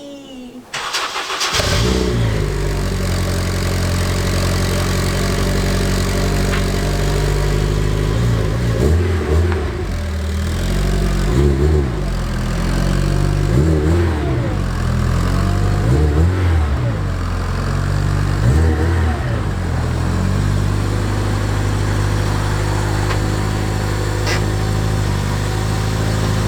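A JDM Honda Type R engine idles with a steady, deep rumble, then blips through several sharp revs before settling back to idle, loud and close throughout.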